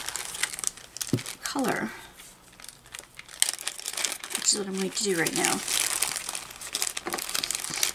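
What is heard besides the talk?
crinkling small plastic bags while putting gems away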